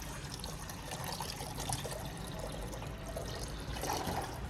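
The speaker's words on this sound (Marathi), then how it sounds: "पहिले आपण पाणी टाकणार" Water poured into a vessel to be heated for making cappuccino, a soft continuous trickle and splash at low level with faint background noise and no talk.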